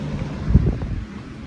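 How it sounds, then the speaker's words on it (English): Low, rumbling wind buffets the microphone in gusts, a steady outdoor roar that swells briefly before settling. "It's so windy out. The wind's just blowing."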